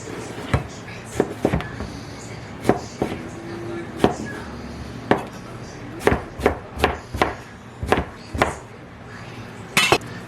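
A knife chops peeled eggplant into half-inch to inch pieces on a cutting board, irregular sharp knocks at close range, some in quick pairs, with brief talk underneath.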